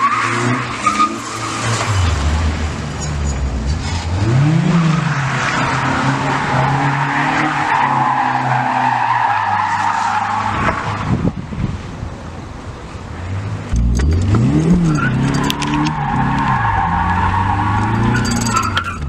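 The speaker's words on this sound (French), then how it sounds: "je pense que j'ai un footage de drift." A drifting car's tires skid and squeal at length while its engine revs rise and fall loudly, wind buffeting the microphone throughout.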